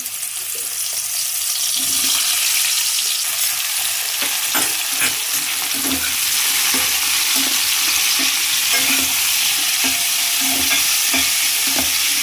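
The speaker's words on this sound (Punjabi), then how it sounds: "ਆਪਣਾ ਤੇਲ ਹੈ ਜੋ ਗਰਮ ਹੋ ਚੁੱਕਿਆ ਹੈ ਹੁਣ ਇਸ ਦੇ ਵਿੱਚ ਆਪਾਂ ਥੋੜੇ ਥੋੜੇ ਕਰਕੇ ਮਸ਼ਰੂਮ ਪਾਵਾਂਗੇ" Mushrooms dropped into hot oil for a malai matar mushroom gravy give a steady, loud, close sizzle, with irregular clinks and scrapes of a spoon stirring throughout and no talking.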